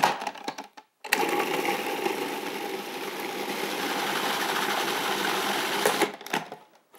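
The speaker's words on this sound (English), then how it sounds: "It's as simple as putting it in the food processor." A food processor blends raw marinara sauce seasoned with black pepper and herbs: a steady, loud motor whir runs for about five seconds after a brief clatter, then cuts off near the end.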